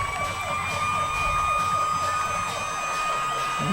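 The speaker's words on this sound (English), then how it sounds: "Y'all hear the siren." A wailing siren rises and falls in a steady repeating pattern at a high school football game, moderately loud and unbroken, with no talking.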